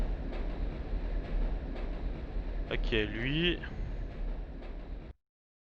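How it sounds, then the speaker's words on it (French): Trains roll past in the video game Commandos as a continuous rumbling, clattering drone, loud throughout and ending abruptly, with someone speaking briefly over it. "mais tout le temps les trains ici"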